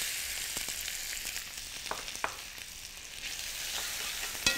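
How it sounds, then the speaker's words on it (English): Chopped onions fry in extra virgin olive oil in a hot frying pan, giving a soft, continuous hiss broken by scattered crackles and one sharp pop near the end. "Have our frying pan, it's hot. A little bit of extra virgin olive oil, of course. And some chopped onions."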